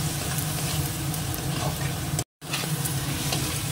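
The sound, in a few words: frying taro greens in oil with turmeric, salt and chili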